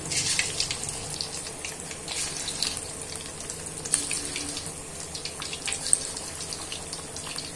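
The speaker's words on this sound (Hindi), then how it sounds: "तो बस सारे पकौड़े डालते हैं, फिर आपको दिखाते हैं।" Fish pakoras dropped into medium-hot oil to deep-fry, giving a steady hissing, bubbling sizzle throughout with a few brief louder crackles, close and without talk.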